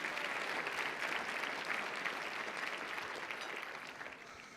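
Sustained audience applause for the committee chairs at a national student assessment conference luncheon, a dense wash of clapping that holds steady and then slowly fades toward the end, with no speech over it.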